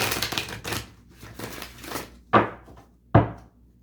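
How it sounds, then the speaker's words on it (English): Tarot cards being shuffled, a run of soft papery riffles followed by two sharp, distinct slaps or taps of the deck, close and fairly quiet with no talking. "Let's shuffle again."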